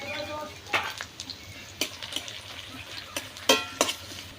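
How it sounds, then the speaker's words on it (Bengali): Cumin and onion fry in hot oil in a wok and are stirred, giving a soft sizzle broken by scattered scrapes and clinks of the utensil against the pan. "চুলায় কড়া বসিয়ে তেল দিয়ে তেল গরম হলে জিরে ও পেঁয়াজ দিয়ে ভালো করে নেড়ে"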